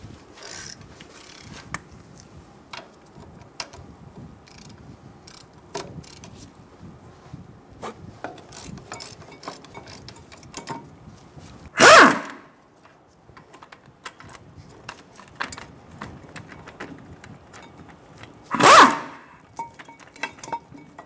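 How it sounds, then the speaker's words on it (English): A ratchet with an 18 mm socket works the caliper bracket bolts on a 2014-2018 Chevrolet Silverado 1500, giving soft clicking and rubbing with two sharp, loud bursts of metal noise about seven seconds apart. "Using an 18 millimeter socket, remove the caliper bracket bolts."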